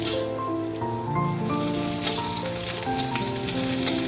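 Chopped onion dropped into a hot pan while making a restaurant-style chicken soup, crackling in a loud, steady sizzle with popping spatters that continue throughout.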